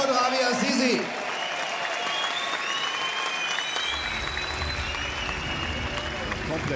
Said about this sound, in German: dafür hätte ich ganz gerne einen guten Applaus für meine Kämpfer Ayan Alipur und Rabi Azizi